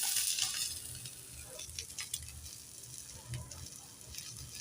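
Eggplant fries in a pan with no added oil, giving a soft steady sizzle broken by occasional scraping and stirring clinks. No one talks over it.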